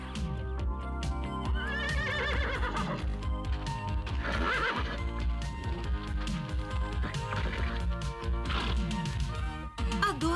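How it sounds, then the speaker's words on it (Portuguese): Cartoon horse neighing and galloping amid a dense, continuous bed of dramatic music and effects, with whinnies rising above the steady hoofbeats and occasional crashes. "Magia, traga o cavalo de Adora para realizar o desejo de Adam agora."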